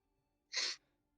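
A single short, sharp sneeze bursts out once, fairly quiet and a little distant, against an otherwise hushed room during a tabletop role-playing session.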